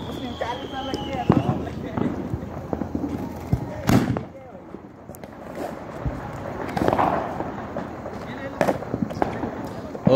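Diwali firecrackers and a 240-shot fireworks cake go off at a hotel staff celebration, giving scattered sharp bangs, some loud and close, others farther off, under ongoing chatter from people nearby.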